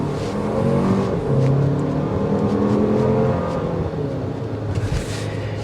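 The 4-cylinder turbocharged engine of a 2024 Toyota Grand Highlander drones and revs loudly from inside the cabin, the pitch rising and holding as the engine pulls steadily, with no talk.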